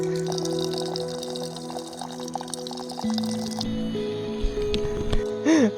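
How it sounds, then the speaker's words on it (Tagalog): Water runs and splashes from a faucet at a foggy campsite during a solo bikepacking trip, a close continuous pour with shifting tones and a few louder splashes near the end, with no talking over it. "Aba, gripo yarn."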